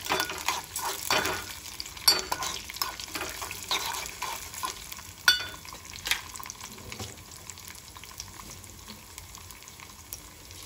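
Urad dal and mustard seeds frying in hot oil in a pan, a crackling sizzle with popping bursts and stirring scrapes, loudest early and settling to a softer fizz, heard close with no talking.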